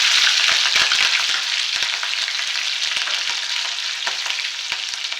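Cumin, garlic and green chillies sizzle steadily in hot oil for a North Karnataka style sabsige palya, a dense crackling hiss with small sharp pops scattered throughout, close and loud with no talking.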